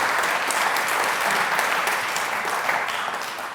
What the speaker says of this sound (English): Another round of applause over there.